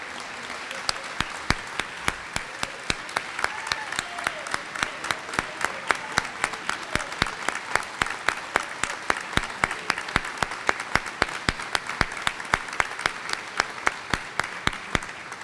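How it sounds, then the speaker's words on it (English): A room of dignitaries at a Cuba democracy PAC gathering claps for Mauricio Claver-Carone, steady applause with sharp individual claps standing out near the microphone, sustained throughout with a murmur of voices underneath. "somebody who definitely deserves a round of applause and maybe his own standing ovation"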